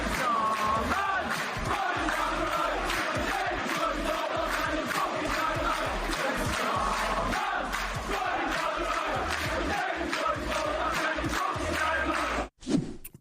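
Sheffield United fans sing together in a football stadium, a loud massed chant of many voices echoing continuously with rhythmic pulses, cut off abruptly near the end.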